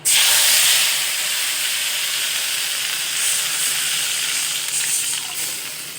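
Kadhi poured into hot oil tempered with mustard seeds, cumin and curry leaves sends up a loud burst of sizzling that settles into a steady, broad hiss for several seconds.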